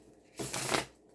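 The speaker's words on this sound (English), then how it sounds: "we're gonna shuffle a few times while we are on camera" Tarot cards shuffled by hand in one quick burst of dense riffling that rises and fades within about half a second, close and clear, with no voices.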